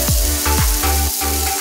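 Free-range chicken fries in a pan with a loud, steady sizzle, while a few brief swooping tones cut through the hiss close by.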